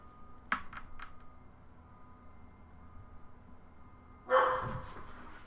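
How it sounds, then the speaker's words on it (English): Dogs bark in a house, first a few short distant yips and then a louder burst of barking a few seconds later, faint against a quiet room. "And there go the dogs."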